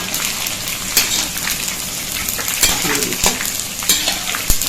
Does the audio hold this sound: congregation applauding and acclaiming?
no